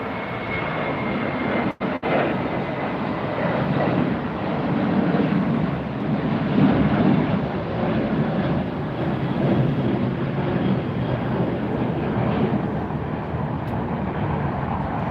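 A British Airways Airbus A380 at LAX at night, heard as a sustained, fairly loud jet engine roar with a broad rumbling wash and a brief sharp click early on.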